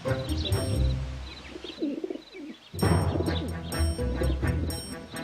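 Pigeons coo softly in a video game scene, with repeated low burbling calls over steady ambient music and a few brighter chirps throughout.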